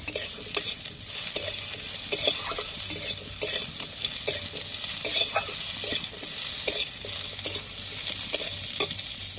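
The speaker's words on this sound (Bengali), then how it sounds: "পটলটা দিয়ে একটু সামান্য নাড়াচাড়া করে নেব" Pointed gourd and other vegetables frying in a pan for a bitter gourd chorchori, stirred steadily: a loud, continuous sizzle close by, broken by regular scraping stirs, with no talking.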